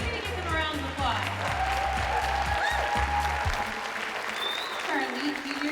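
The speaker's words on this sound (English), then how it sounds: "We need to give them a round of applause." An audience at a dance competition gives a full round of applause, with bright, sustained clapping over background music and a voice speaking.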